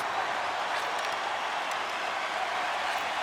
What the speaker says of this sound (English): the home team giving the fans something to cheer and get loud about